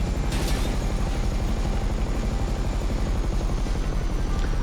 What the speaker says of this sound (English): A gigantic helicopter gunship combined with assault helicopter.